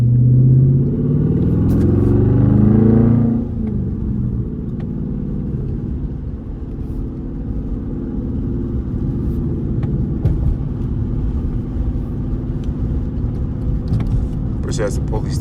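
Dodge Charger R/T V8 driven in track mode from the driver's seat: a loud low engine drone under brief talk at the start, then a steady rumbling cruise with occasional clicks.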